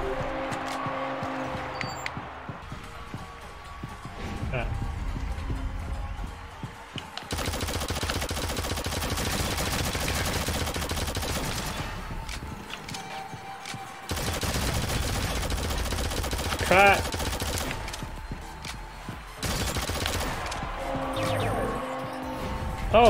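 Bursts of SMG fire in a Shadowgun Legends match ring out in repeated rapid volleys over roughly twenty seconds, with engine-like rumble and crashes mixed in, loud and close throughout.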